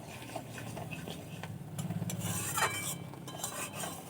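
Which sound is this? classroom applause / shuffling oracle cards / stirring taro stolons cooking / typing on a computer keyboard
stirring taro stolons cooking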